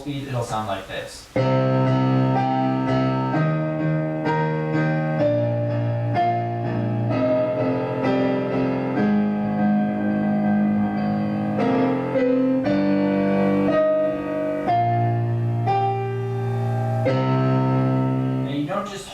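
At full tempo, a piano plays the Shin Gojira theme, loud, dense octave chords and a low bass line rolling steadily after a brief start, close and unaccompanied.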